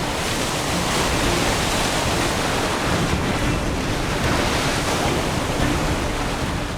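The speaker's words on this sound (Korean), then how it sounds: "그런데 이쪽 파도가 예사롭지 않습니다." Rough sea waves surge and crash continuously against a rocky shore on Cheongdeung Island, a loud, dense roar of churning surf with gusty wind noise throughout and no voices.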